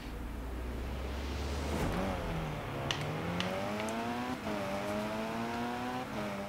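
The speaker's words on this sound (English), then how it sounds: "I prefer the sound of this engine" A Lego Arrowhead racing car engine in a video game drones steadily, pitch climbing through gear changes with brief dips between shifts, loud and continuous with no voices.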